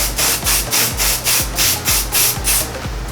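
Rhythmic bursts of aerosol hairspray, about seven short sprays in a steady pulse with faint rubbing between them, close to the microphone.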